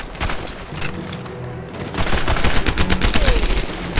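Shotgun blasts and other gunfire in the World War II shooter Medal of Honor Airborne come as a dense run of loud, sharp reports. They ease briefly midway, then pick up again in rapid succession.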